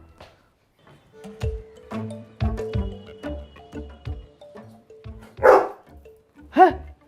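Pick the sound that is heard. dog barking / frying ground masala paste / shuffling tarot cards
dog barking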